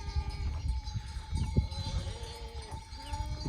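Goats bleat in short, wavering calls, a few overlapping at a moderate distance, over a low rumble of outdoor background noise.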